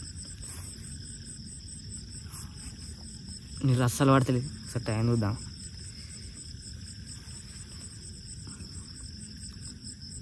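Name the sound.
insects chirping at night at a campsite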